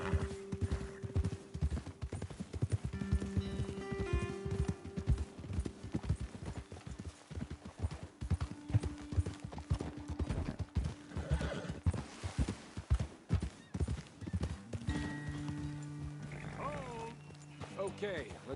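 Video game horse hooves clip-clop steadily with an occasional whinny, while voices talk over them and a low musical tone hums underneath.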